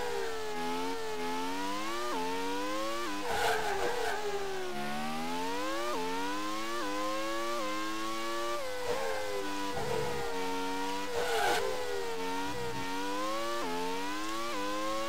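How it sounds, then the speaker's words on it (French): A V12 race car engine in the PC racing game Grand Prix 2, a synthetic whining tone that climbs in pitch through each gear, drops at every shift, and rises again steadily for the whole stretch. "On a beau avoir un V12 logiquement, c'est le même bruit qu'un V10."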